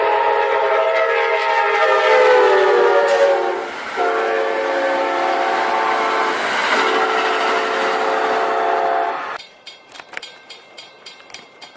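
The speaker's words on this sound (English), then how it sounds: "here comes another train, southbound by Mark Grove, CX6" A southbound CSX freight train sounds a long, loud, chord-like horn blast for several seconds, then rolls past with rhythmic clicking of wheels over rail joints, near and without talk.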